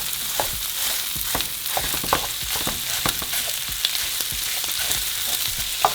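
Chorizo fries with bacon in a pan as it is broken up, a steady hiss of sizzling fat punctuated by light scraping and tapping of the utensil, moderately quiet and close.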